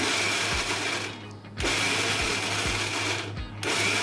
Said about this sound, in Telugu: అన్నీ మిక్సీలో వేసేసుకొని బరకగా మిక్సీ మిక్సీ పట్టేసుకోవాలండి